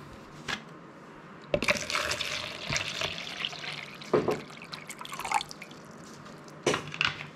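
Clean water poured and splashing while rinsing a variegated Florida banana plant, bursts of running and dripping water that start and stop irregularly, close and fairly loud.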